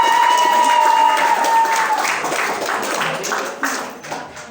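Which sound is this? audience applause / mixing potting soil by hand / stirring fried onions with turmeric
audience applause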